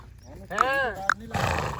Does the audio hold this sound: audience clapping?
no